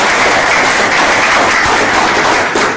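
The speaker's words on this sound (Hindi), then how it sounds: "एक बार ताली बजा दो इन्होंने" Dense, steady applause from an audience fills the stretch at close range, a continuous wash of many hands clapping with no pauses and only faint traces of voice.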